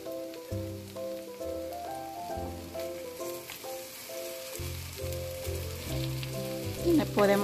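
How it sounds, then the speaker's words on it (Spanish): Steady crackling sizzle of tofu frying in hot oil, close up, with clinking utensil taps and tonal background music throughout. "Aquí se está friendo nuestro tofu."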